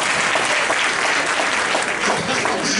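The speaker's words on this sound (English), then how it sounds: "Can I get one person to give me a hand clap for that?" Audience at a social emotional learning conference breaks into steady, dense applause, many hands clapping together at close range and fairly loud, holding evenly for nearly three seconds with no voices over it.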